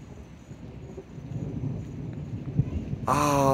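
Thunder from a lightning storm rolls low and rumbling over Fort De Soto State Park in Florida, heard from an RV, with a sharp louder crack near the end under background noise.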